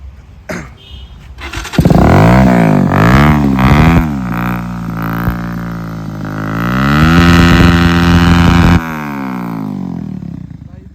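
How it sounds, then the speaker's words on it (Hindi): A Bajaj Avenger motorcycle converted to Harley-Davidson style fires up after a few cranks, then blips its throttle in loud rising revs before settling into a deep, throaty idle close by. "एक बार बाइक को स्टार्ट करके दिखा दीजिए भाई।"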